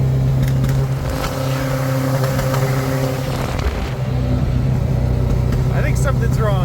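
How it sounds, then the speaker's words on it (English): A motorcycle engine swapped into a kei truck runs roughly with a steady low drone, a possible misfire on a couple of cylinders, under scattered irregular pops and crackles from backfiring. "It's backfiring pretty good."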